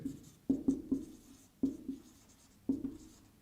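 Writing on a board during an ethics lecture, faint tapping strokes and scratches in a few quick clusters, close and quiet in a calm room.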